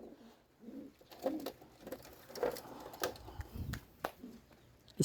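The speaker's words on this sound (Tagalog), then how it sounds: "Parang ito yung dati kong kalapate, si Ichiboy" A pigeon cooing softly in low, throaty bursts close by, with faint fluttering and shuffling around it.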